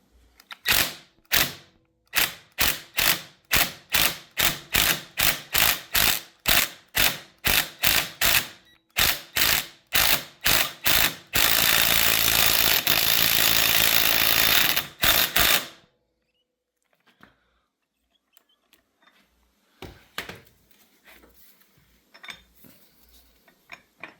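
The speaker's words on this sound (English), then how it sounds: "we're just going to use the 17 millimeter on the impact gun and tighten this to pull the flywheel off" Rapid bursts of an impact gun with a 17 mm socket rattle a flywheel nut off a Yamaha Raptor 350 engine, a long series of sharp hammering pulses, then one sustained run before quieting to faint handling noises.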